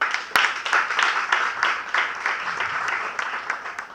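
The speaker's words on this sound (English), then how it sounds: "So a round of applause for them." An audience at a Toastmasters club event in Nagpur breaks into applause, a fairly close, steady patter of many hands clapping that fades slightly toward the end.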